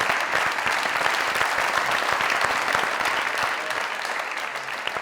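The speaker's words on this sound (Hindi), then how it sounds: "जोरदार ताली" Loud, dense applause from a studio audience at a comedy talk show, steady clapping filling the whole stretch and easing off only slightly near the end.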